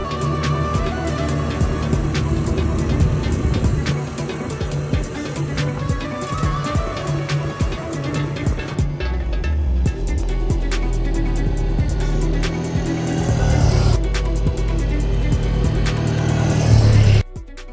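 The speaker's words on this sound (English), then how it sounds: "Lake Mirage has ATVs on site, which you can take out with a guide for morning or sunset drives." Guided ATV quad bikes driven across the Namib desert near Lake Mirage, engines droning steadily at close range with shifts in pitch as they rev and change speed, ending abruptly.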